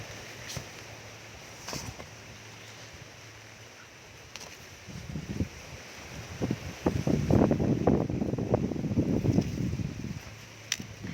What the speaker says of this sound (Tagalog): Lakas po ang hangin dito.